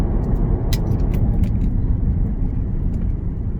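BMW 6-Series car on run-flat tyres pulling away hard from a standstill in first gear on a slip road, heard from inside as a steady, loud low engine and road roar with a few faint clicks above it.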